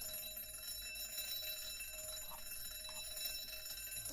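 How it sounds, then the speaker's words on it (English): An alarm clock rings steadily in a binaural music mix, a continuous bright tone that holds its level for the whole stretch, with no talk over it. "And then there's this alarm clock. And that one just stays right in the middle."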